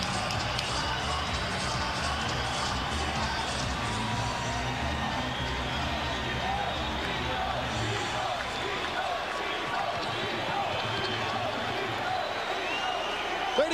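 A boxing arena crowd roars continuously as the fighter approaches the ring before a title bout, a dense, loud wash of cheering and shouting with a commentator talking over it.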